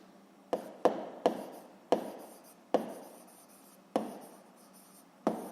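A pen writes out a physics solution by hand on paper, in about eight separate quick strokes with short pauses between them, close and fairly quiet.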